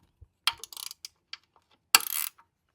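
A ratchet works on 10 mm bolts on a Jeep Wrangler, producing close, crisp bursts of rapid clicking separated by short pauses, with one longer buzzing run near the end.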